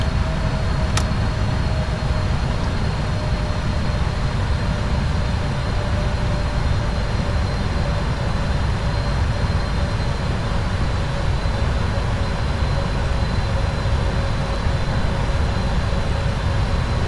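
Boeing 777 jet engines roaring at high thrust during a go-around in the PMDG flight simulator game, a loud, steady broadband rumble that holds without a break throughout, with no talking.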